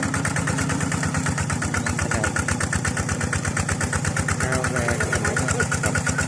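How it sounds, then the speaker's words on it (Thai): A small walking tractor engine runs steadily at idle-to-medium speed, its rapid chugging pulse continuous and close throughout. "ชาวนา ก็รีบมาไถนาแต่เช้าตอนนี้ก็จะเป็นรถไถนาเดินตามขนาดเล็กครับ"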